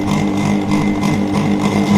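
An electric motor run through an AC voltage controller hums and whirs steadily at close range, its tone wavering slightly as its speed shifts.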